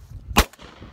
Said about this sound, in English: Today we're out here doing a little skeet shooting.